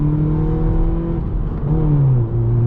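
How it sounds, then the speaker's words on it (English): A loud straight-piped BMW 1 Series (F21) engine drones and revs steadily, its pitch dipping and rising, with rough crackly exhaust pops running throughout and no talking. "Oh, the pops. I don't know if you're picking them up, but they sound amazing"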